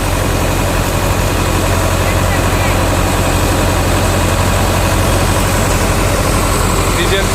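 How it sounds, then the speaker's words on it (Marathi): A Powertrac Euro 55 NEXT tractor engine drives a thresher through its PTO, a loud, close, steady diesel drone with dense machine rumble and rattle that holds constant throughout without pause. "हा ट्रॅक्टर काय त्याच्या आवाजात बदल जाणवतोय का बघा, त्याला लोड काय जाणवतोय का बघा"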